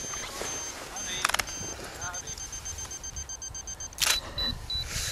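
A camera flash unit fires at full power with a sharp snap and brief burst, then emits a short series of high beeps, followed by another snap; faint outdoor background at sunset with a voice speaking under it.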